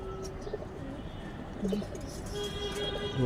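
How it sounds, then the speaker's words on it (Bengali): Pigeons coo softly in short, low, throaty calls, repeated a few times against a faint background murmur. "এই যে একটা তাল কবুতর আমার"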